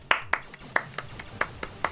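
A few pairs of hands clapping sparsely and unevenly, about nine sharp separate claps close by with no crowd behind them.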